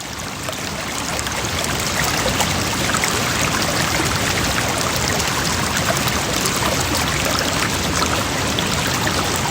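A stream flows beneath a footbridge in New River Gorge National Park, a steady, dense rush of water that stays loud and close throughout, with no talking.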